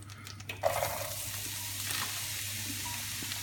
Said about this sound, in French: Mon beurre est bien chaud.